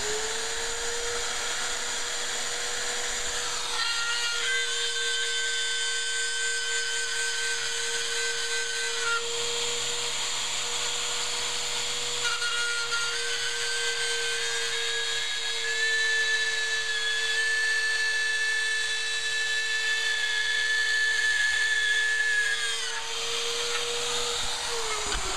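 A Rotozip spiral saw cutting MDF, its motor whining at a steady high pitch with a gritty cutting rasp, the tone dipping and rising as the bit works through the board, close and continuous.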